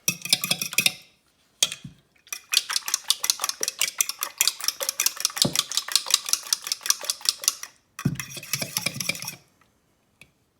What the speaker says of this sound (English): Let me beat up my eggs a little bit